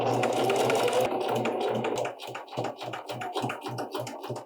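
A sewing machine understitches a seam on a pair of Lane Pants. It starts with a steady close whir, then breaks into quick rhythmic bursts of stitching with short pauses between them.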